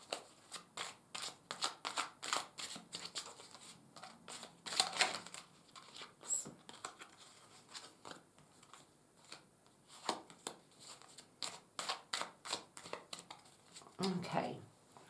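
Tarot cards are shuffled repeatedly nearby, a rapid series of soft riffling snaps in quick bursts with short pauses between.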